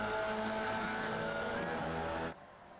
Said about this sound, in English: Racing Formula V's on the oval.